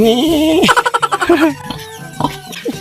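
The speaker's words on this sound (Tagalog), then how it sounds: "Manok ni San Pedro." On a farm, a chicken gives a rapid series of clucks close by, with a person talking over and around the calls.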